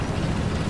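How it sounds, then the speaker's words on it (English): Artillery explosions in a video game, tuned to carry from far away, form a deep rumbling boom that fills a brief moment with low, heavy blast energy. "You hear all these explosions from because he made it where you can actually hear artillery from further away."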